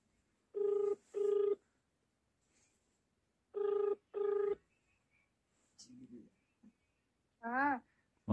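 Two pairs of phone ringback tones in clean paired bursts as a call is placed, followed by a short muffled clatter and a brief voice at the end.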